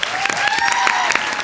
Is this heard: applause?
yes